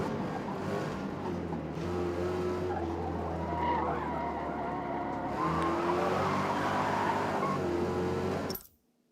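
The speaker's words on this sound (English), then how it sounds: "Listen to that tire squeal in the back end." In the racing game Forza Motorsport, a classic muscle car's rear tires squeal in a long sustained skid over a steady engine drone, loud and continuous until it cuts off abruptly.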